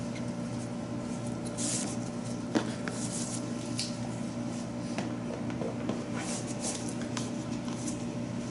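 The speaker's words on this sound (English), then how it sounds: "I'm sorry about the background noise. The aircon is going." Steady low mechanical hum and airy hiss run throughout, like an air conditioner droning in the background, with a few faint clicks and rustles.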